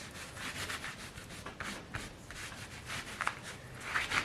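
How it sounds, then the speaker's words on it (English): Close, continuous scratchy rubbing over handmade Joomchi-style journal paper, worked into its little cracks, with soft repeated strokes and a few brighter rustles near the end and no voices. "I'm just going to rub it over so it goes into all the little cracks."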